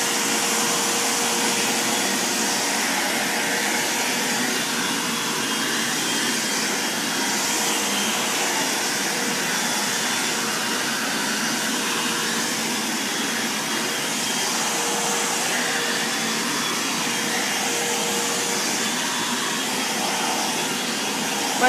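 Bissell Lift-Off vacuum cleaner running on carpet, a loud, steady motor roar and airy whoosh that continues unbroken for over twenty seconds with only slight swells.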